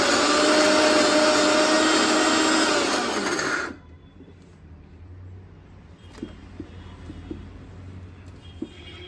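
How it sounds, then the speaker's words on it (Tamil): Mixer grinder whirs loudly while grinding lentils for banana flower vada, a steady high-pitched motor roar that cuts off abruptly after about four seconds, leaving quiet room tone with a few light clicks. "இங்கே அரைக்க போறேன்."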